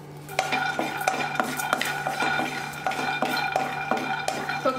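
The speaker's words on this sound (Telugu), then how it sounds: "ఇప్పుడు ఇదే కడాయిలో నేను వేరుశనగలు వేయించుకుంటున్నాను." Peanuts are stirred while frying in a kadai, giving a quick, irregular run of metallic clinks and rattling scrapes, close and fairly loud over a low steady hum, with little sizzle heard.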